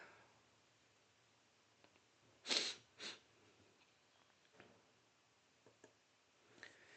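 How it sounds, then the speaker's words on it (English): A single person sneezes close by in a quiet room: one sharp burst followed by a smaller second one, then faint ticks and rustles. "I need to sneeze."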